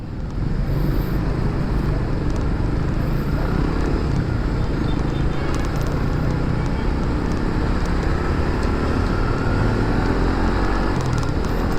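Dense road traffic with cars and motorcycles, a steady loud roar of engines and passing vehicles throughout with no clear breaks.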